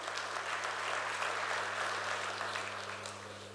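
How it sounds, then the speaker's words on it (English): An audience at a defence and security expo applauds its presenters, a steady wash of clapping from a crowd in a hall that fades slightly toward the end. "a round of applause for our presenters"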